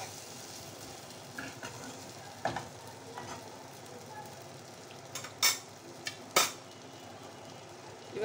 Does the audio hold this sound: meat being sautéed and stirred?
yes